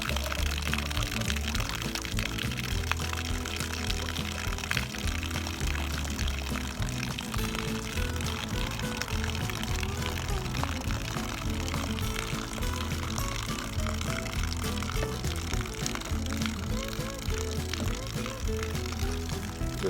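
Water pours and gushes steadily from house plumbing as a frost-free outdoor faucet is opened up for a leak repair in cold weather, a continuous wet rushing sound with no talk.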